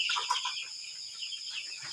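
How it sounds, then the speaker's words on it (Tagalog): Fifteen-day-old broiler chickens in an elevated backyard coop keep up a soft, busy, high-pitched clucking and peeping as a steady flock murmur at moderate distance. "So ayan guys, andito na yung mga broiler natin"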